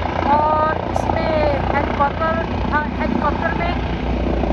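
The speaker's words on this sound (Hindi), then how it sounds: "आपके सामने हेलीकॉप्टर आस्ता आस्ता उतर रहा है" Air ambulance helicopter slowly coming down to land, a steady loud rotor and engine drone filling the whole stretch, with someone talking over it throughout.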